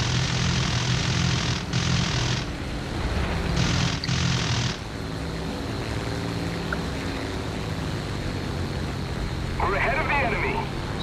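Propeller engine of a MiG-3 fighter in War Thunder drones steadily at close range, a continuous buzzing hum with brief hissy surges early on, while someone talks over it.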